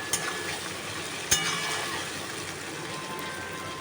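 Chicken pieces fry in ginger, chilli and garlic paste for chilli chicken, giving a steady close sizzle with two sharp utensil clicks near the start, and no talking.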